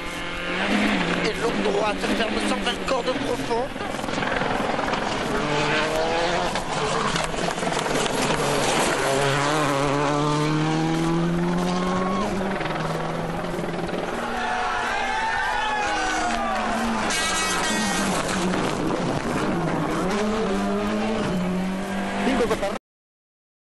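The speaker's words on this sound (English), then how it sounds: "Sebastian Loeb into stage 4, and here he finally gets the better of Marcus Gronholm" A WRC rally car tearing through a stage at Rally Spain 2006, its engine snarling loudly and continuously, rising and dropping in pitch through repeated gear changes, with a brief tire squeal and faint crowd noise in the background.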